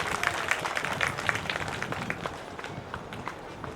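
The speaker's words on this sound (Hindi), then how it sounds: "डॉक्टर साहब जी के लिए जोरदार तालियां बजा दो।" An audience at a religious discourse event claps in a steady patter of applause that starts strong and gradually fades, with faint crowd noise underneath.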